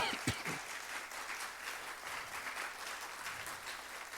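A church congregation applauds together after a sermon line, a dense close wash of clapping with a few sharper claps near the start, holding steady throughout with no one speaking over it.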